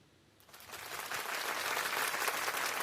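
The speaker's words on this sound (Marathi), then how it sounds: "टाळ्या वाजत राहायला पाहिजेत" Applause breaks out at a cheque-signing ceremony, starting faint and swelling within a second into a dense, sustained burst of clapping that holds steady to the end, with no talk over it.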